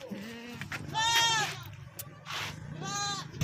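A dairy goat in milk bleats up close on a farm, several drawn-out wavering calls spread over a few seconds, with faint background chatter.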